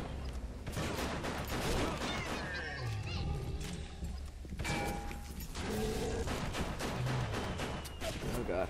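Machine gun fire in Bioshock Remastered: rapid bursts of shots come and go over several seconds, mixed with clanking mechanical game noises and brief tonal sounds.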